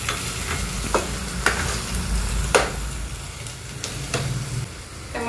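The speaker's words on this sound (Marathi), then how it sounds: "आले लसूण चांगलं परतून घ्यायचं आहे बघा" Ginger and garlic sautéed in a pan, a loud continuous sizzle of hot oil with a handful of spatula scrapes and knocks spread across it, close up and with no talking.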